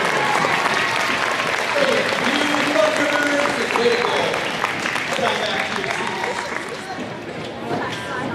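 A school rally crowd applauds citizenship award winners with loud, continuous clapping, cheering voices and chatter underneath, gradually easing toward the end.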